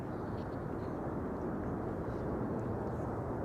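A business jet landing at Amsterdam Schiphol Airport with thrust reversers deployed, a steady, dense, distant roar of engine noise, continuous and even throughout.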